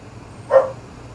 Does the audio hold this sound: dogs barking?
yes